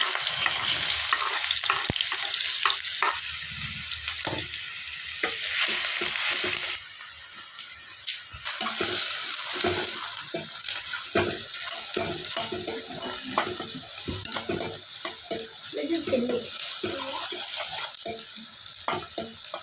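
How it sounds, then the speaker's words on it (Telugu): Green chillies and onions sizzle in hot oil in a home kitchen while prawn fry is prepared, a loud continuous crackling fry with repeated scraping stirs of a spoon against the pan throughout. "ఆయిల్ వేడెక్కిందండి రెండు పచ్చిమిరకాయలు ఉల్లిగడ్డలు వేసినాను"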